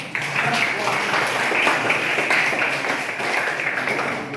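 Students in a classroom clap together in a steady, dense patter that fills the room at moderate loudness, with a few voices mixed in under the clapping.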